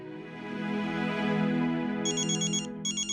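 A phone ringtone plays in repeated electronic bursts, a short pause between two trills, over a steady background hum.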